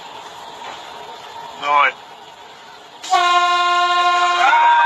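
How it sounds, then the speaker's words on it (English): A train approaching along the tracks, a low rumble that swells before a loud, sustained horn blast takes over near the end, with a brief exclamation from a voice in between. "they weren't even listening to the train coming up behind them"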